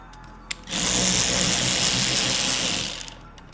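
A 13mm nut on a van's wiper arm being cracked loose with a power tool, a short sharp knock followed by a loud, steady whirring burst lasting about two and a half seconds close to the mic, then tapering off.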